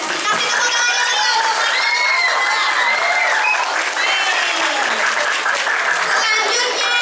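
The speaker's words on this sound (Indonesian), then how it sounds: "Kasih tepuk tangan dulu." Applause at a school student council (OSIS) election debate, a hall full of students clapping loudly and continuously, mixed with excited cheering and shouts of children.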